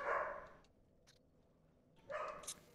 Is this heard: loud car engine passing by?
no